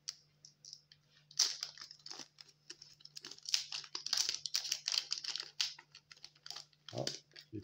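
A Pokemon booster pack from a Pokemon Go Alola box is torn open, its foil wrapper crinkling and ripping in bursts of sharp, close crackles.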